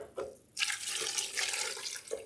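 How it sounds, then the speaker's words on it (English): Milk pours in a steady splashing stream into a banana smoothie mixture in a blender, close and continuous for a couple of seconds. "Then we add our milk"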